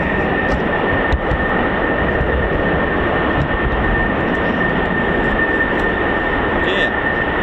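Loud, continuous roar of an F-15 or F-35 fighter jet at RAF Lakenheath with a steady high whine, heard at an air base with voices faintly in the mix.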